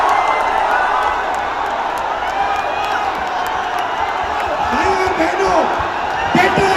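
A large crowd of young people at an open-air political rally hooting and cheering continuously, with loud amplified talk over the din and scattered sharp claps and shouts.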